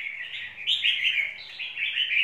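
A caged songbird, a long-tailed bird with its tail fanned out, chirps in bright, rapid bursts of song close to the microphone, continuous across the moment with no talking.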